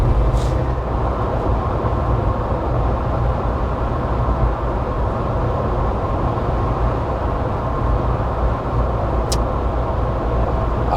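A steady, loud rumble of road and engine noise fills a 2024 Jeep Wrangler Sport S cabin at cruising speed, constant and unbroken with no talking.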